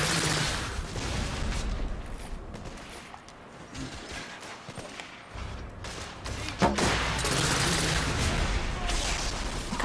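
Rapid gunfire during a firefight in The Order: 1886, dense bursts and shots filling the scene near and loud, with a spoken voice now and then over the shooting.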